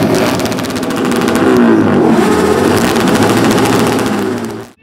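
Several motorcycle engines rev loudly and continuously at an outdoor biker festival, a dense, roaring drone that holds steady for several seconds before cutting off abruptly.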